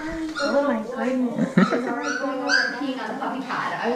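A young female puppy whimpers and yips in high, wavering cries across the whole stretch, with a sharp yelp near the middle, close and fairly loud, mixed with people talking.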